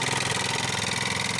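A Hero Maestro Edge scooter engine idles up close. The hum is steady and even, with a fine rapid pulse, and the engine has a service and oil-change problem. No one speaks.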